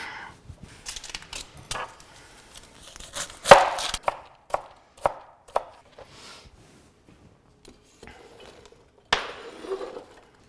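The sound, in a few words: chopping carrots and celery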